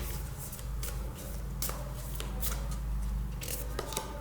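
Oracle cards are shuffled and one is drawn, a run of crisp papery riffles and flicks heard close up at a steady pace, over a low background hum with no talking.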